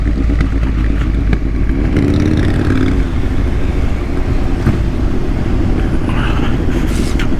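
A Ducati Monster motorcycle engine runs loud and close, a dense, rumbling drone that rises and swells in revs over several seconds, with clattering mechanical noise mixed in.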